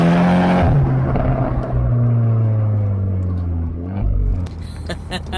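A Volkswagen Golf R engine with a Milltek Sport downpipe idles and runs steadily with a deep exhaust drone, pitch shifting slightly as it revs, close and loud throughout.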